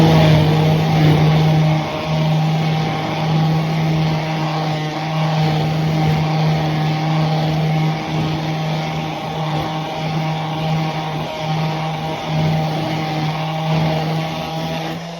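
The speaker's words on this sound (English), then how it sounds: "I'm going to hit it with this 220 grit on my sander" Orbital sander with 220 grit paper sanding a wooden cheese slicer board, a loud, steady, close motor whine with a constant hum that barely wavers throughout, no voices.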